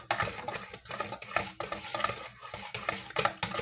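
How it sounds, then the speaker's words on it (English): Pumpkin pie filling for a single 9-inch crust is stirred and poured in a kitchen, a steady scraping of utensil against bowl with light clinks and wet slops, close and continuous without talk. "So I'm mixing and pouring at the same time."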